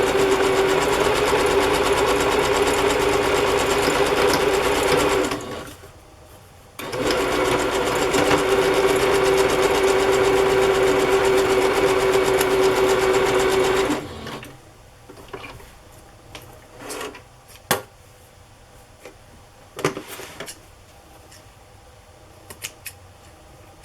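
Sewing machine stitching across the top of a burlap fabric pocket, two loud steady runs of whirring motor noise with a brief pause between, then faint clicks and handling sounds.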